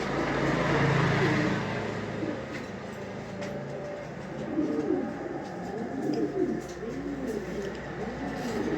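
Pigeons coo repeatedly at a dealer's loft of top-quality fancy breeds, the soft rolling calls looping over a steady background hum and distant traffic.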